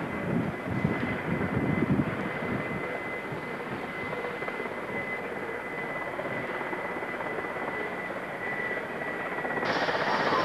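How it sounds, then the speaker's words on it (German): Engines of a Transall military transport aircraft run up at an air transport wing's 1992 open day, giving a continuous loud turbine and propeller roar with a steady high whine that holds throughout. "die Transall wird wieder starten"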